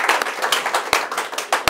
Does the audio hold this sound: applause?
yes